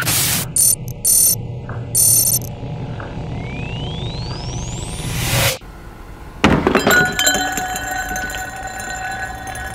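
Pelican case holding wine glasses dropped onto concrete: sharp tapping and a rising whine build up, then a loud crash and clatter of the hard case hitting the ground, followed by ringing rattles.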